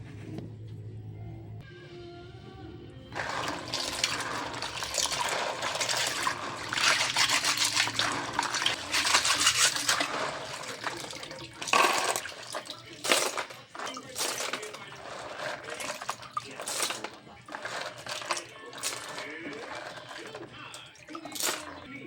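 Shellfish get rinsed in water, producing trickling, splashing and clattering shell sounds close by, with a Tagalog-speaking voice talking over parts of it.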